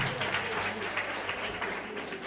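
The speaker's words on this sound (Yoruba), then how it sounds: "ẹ bá mi pàtẹ́wọ́ fún ìwé kan." An audience at a Yoruba quiz competition claps in a steady, moderately loud patter of applause, with a voice faintly mixed underneath.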